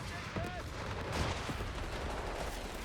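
An anti-tank gun fires in Company of Heroes 3 amid dense, continuous battle noise, with a sharp shot rising out of a loud, rumbling wash of gunfire and explosions.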